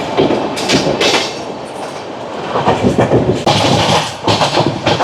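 The Howrah–NJP Shatabdi Express runs at speed of around 100 km/h, with a loud continuous roar of wheels on track, rhythmic clickety-clack bursts over rail joints and some rushing wind noise, heard close from inside the train.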